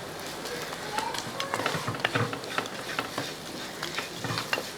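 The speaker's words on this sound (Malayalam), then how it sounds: "പൊടികളൊക്കെ ചേർത്ത ശേഷം എല്ലാം കൂടെ ഇളക്കി കൊടുക്കുക" Spice powders being stirred into soya chunks frying in a pan make a low sizzle with quick, irregular scraping and tapping from a spoon, close by, with a faint voice in the background.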